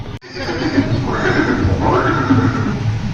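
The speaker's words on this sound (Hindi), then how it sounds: "ये दृश्य महाराणा प्रताप और सुविख्यात स्वामी भक्त घोड़े चेतक के अंतिम मिलन का है।" Maharana Pratap's horse Chetak neighs loudly and close at hand, a long rising and falling whinny that fills the whole moment, with possible faint voices beneath it.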